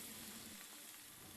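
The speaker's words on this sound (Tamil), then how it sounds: "ஸோ இப்போ நான் எண்ணெயை காய வச்சு பொரிக்கிறேன்." An appalam samosa fries in hot oil over a low flame, a steady, dense sizzle and crackle held close and even for its whole brief length, with no voices.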